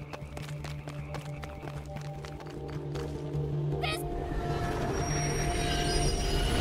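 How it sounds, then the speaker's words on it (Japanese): A train rolls past in the Life is Strange video game, a rumbling, clattering passage with a rising roar and a brief high metallic squeal midway, growing louder toward the end. "あの電車の進路も変えちまったし"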